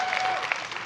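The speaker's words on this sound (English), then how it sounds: "it's such a funny thing to applaud" A church congregation at an Easter service applauds, a dense steady wash of clapping filling the room for a short stretch, with no talk over it.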